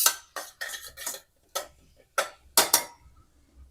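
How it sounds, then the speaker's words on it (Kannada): A spoon scrapes and taps against a pan while vegetables fry in ghee and oil for pulao, about ten sharp, close clinks at an uneven rhythm with quiet gaps between. "ಇವಾಗ ನಾನು ಕ್ಲೀನಾಗಿ ಮಿಕ್ಸ್ ಮಾಡ್ಕೊತೀನಿ. ತುಪ್ಪದಲ್ಲಿ, ಎಣ್ಣೆಯಲ್ಲಿ ಫ್ರೈ ಮಾಡ್ಕೊತೀನಿ."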